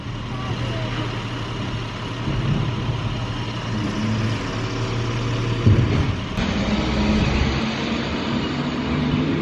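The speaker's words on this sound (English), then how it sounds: "The white garbage truck is all gone." A large white garbage truck rumbles and roars as it pulls away, a steady engine drone with a brief clunk partway through.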